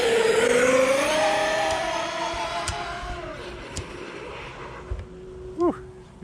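A Traxxas Sledge RC truck screams past at full throttle outdoors, its high motor whine rising and then falling away as it runs off into the distance, with a few sharp clicks and knocks near the end.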